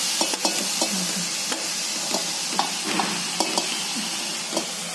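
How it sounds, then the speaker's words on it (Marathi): Carrot pieces frying in ghee for sweet carrot halwa, a steady soft sizzle with scattered clicks and scrapes of a spoon stirring the pan. "तुपामध्ये हे फ्राय करून घेते चांगलं"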